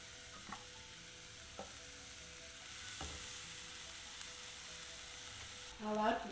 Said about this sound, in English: Now let's cook the filling.